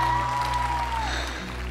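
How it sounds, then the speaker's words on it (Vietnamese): Audience applause fills a Vietnamese televised masked singing competition, a continuous loud wash of clapping with sustained tones ringing underneath, tapering slightly toward the end. "dành một tràng pháo tay quá nồng nhiệt cho Tí Nâu vì cái sự thiên biến vạn hóa"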